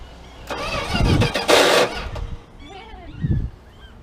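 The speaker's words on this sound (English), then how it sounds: "Starter drive's getting tired." An old truck engine cranks with a tired starter drive in several uneven bursts, grinding and whirring close by without fully catching, while people talk briefly between attempts.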